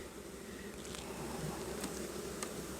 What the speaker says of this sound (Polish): niechętnie te pszczoły mi tu wchodzą do góry